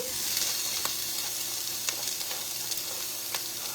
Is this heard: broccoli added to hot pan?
yes